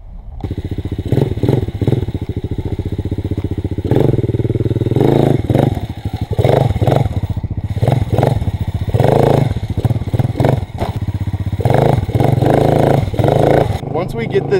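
A motorcycle from a Chinese motorsports store revs hard in repeated bursts during a wheelie, loud and close, the engine surging and dropping in an uneven rhythm while people talk over it.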